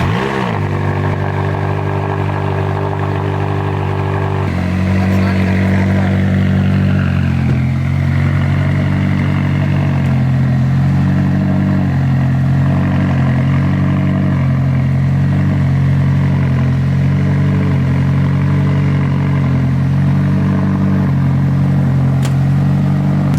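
A McLaren 570S Spider with a titanium exhaust fires up loudly at close range, a sharp startup flare settling into a strong, steady idle with small throttle blips over about twenty seconds.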